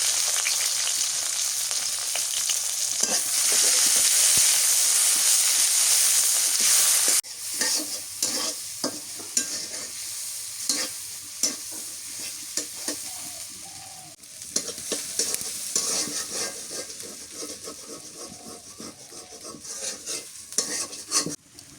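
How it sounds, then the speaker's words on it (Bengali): Chopped onion goes into hot oil in a wok with bay leaves and whole spices: a loud, steady sizzle at first, then a spatula stirring and scraping in repeated clatters while the frying keeps crackling underneath. "এই কড়াই তেল দিয়ে দিচ্ছি"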